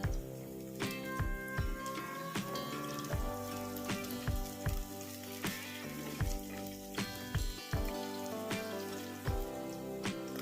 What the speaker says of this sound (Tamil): வெங்காயம் நல்லா வதங்கிட்டு இருக்குதுங்க